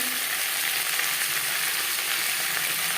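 Potatoes sizzling steadily in hot oil with a spice tempering as they are stirred in a pan. The frying hiss is loud and continuous, with no speech.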